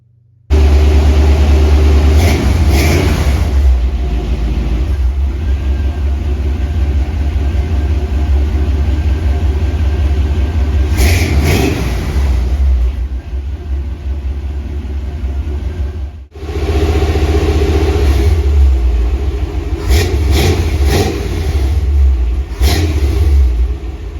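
A 1971 Chevrolet C-10 engine fitted with dual 2-1/2 inch exhaust, H-pipe and test mufflers roars loudly through repeated revs, with deep rumbling idle between several sharp throttle blips and a brief drop-off midway.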